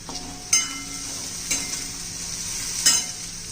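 Oil sizzles steadily in a pan of ginger, garlic and dry coconut for veg biryani, with three sharp spoon-on-pan stirring scrapes spaced across the clip, close and clear.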